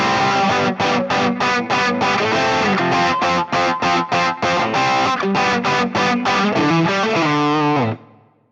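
Electric guitar through a Dirty Shirley amp model on a Fractal FM3, FM9 or Axe-FX III modeler, playing a loud, driven rhythm part of a song in chopped, rapid chords that ring out and cut off at the end, with no talking.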